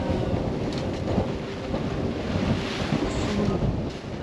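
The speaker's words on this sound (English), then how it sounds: "the wind and the waves have been constant since it got dark at 8 p.m. last night" Wind and waves at sea at night around a sailboat on an overnight passage from Venice, Florida to Key West, a constant roaring wash of water with wind buffeting the microphone throughout.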